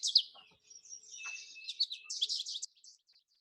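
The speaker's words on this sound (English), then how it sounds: "that's the American goldfinch from the Merlin ID bird app" An American goldfinch song plays back from a phone bird-identification app, a quick series of bright high twittering chirps and trills lasting a few seconds, clear against silence.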